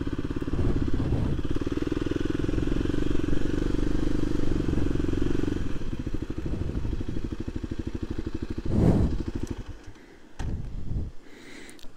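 A Kawasaki KLX dirt bike engine runs steadily at a logging site outdoors, loud and close, with a rhythmic pulsing idle, a brief louder burst near the end and clattering thumps as it is shut off.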